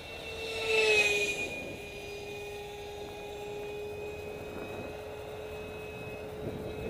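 FRCFoamies SU37 Mk2 EDF RC jet with canards flying past outdoors, a steady high-pitched ducted-fan whine that swells briefly as it passes close, then holds a sustained tone as it moves off.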